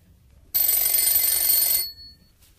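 A telephone rings once in a corporate office in Budapest, a single bright electronic trill lasting just over a second against a quiet background.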